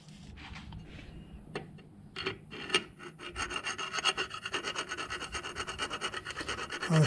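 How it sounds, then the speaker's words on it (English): Hand file rasping on a brush holder from a 1200 watt 12 volt anchor winch motor, sparse strokes at first, then a steady run of close, loud scraping strokes. "I filed the brush holder, smoothed it out on both sides."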